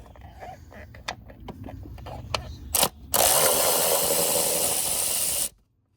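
Ratchet clicking as bolts are loosened during a camshaft install on a Gen V LT engine, close and uneven clicks followed by a sustained hissing whir that cuts off abruptly.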